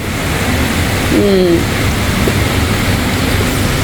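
Steady rain pours outside a nineteenth-floor high-rise balcony, a loud continuous wash of noise with a brief faint tonal sound partway through.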